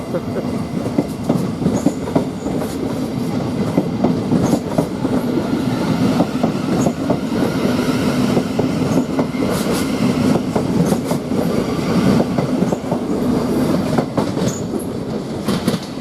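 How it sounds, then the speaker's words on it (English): Train pulling out of Three Bridges railway station, loud and close, with a continuous rumble and rhythmic clickety-clack of wheels over rail joints, steady for the whole stretch. "And we've got this train now departing, 700 103"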